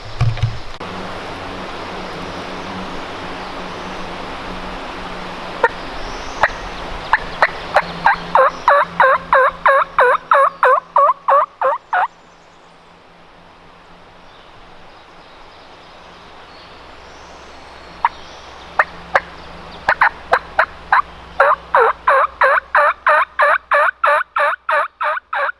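Wild turkey call worked in spring woods, giving two bursts of rapid, rhythmic yelping clucks over a steady rushing background, each series building quickly then tapering off, close and loud with no talking.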